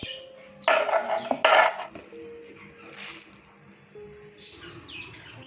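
Pet birds in a birdcage chirp in short bright bursts, a couple of loud close calls followed by softer twittering, with a steady low hum and rustling underneath.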